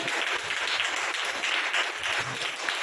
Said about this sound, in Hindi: ताली बजाओ ना ईश्वर का